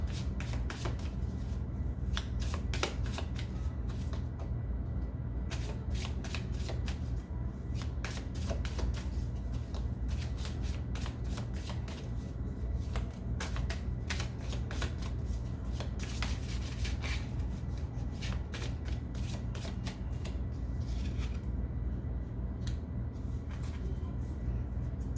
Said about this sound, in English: Give me one more card,